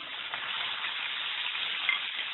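A handful of curry leaves tempering in hot oil with the stove switched off, a dense, even crackling sizzle, close and steady throughout with no voice.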